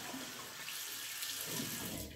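Water runs steadily from a tap while a shave is being prepared, a close, continuous rushing splash with no voices.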